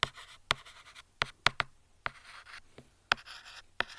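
Pen writing an answer on paper, close and quiet, with irregular sharp taps and short scratchy strokes spaced across the moment.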